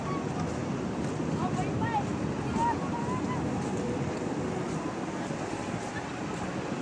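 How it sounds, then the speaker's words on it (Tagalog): Steady ocean surf rushes continuously at a surfing spot in Siargao, Philippines, with wind noise and faint distant voices mixed in. "Yung alon."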